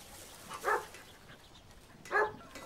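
Two separate dog barks about a second and a half apart, mid-distance and moderately loud over a low background hum.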